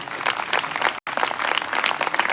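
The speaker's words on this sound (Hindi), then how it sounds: "जोरदार ताली बजाएं।" A congregation claps loudly and continuously at a live worship service in Faisalabad, a dense wash of applause with a brief gap midway.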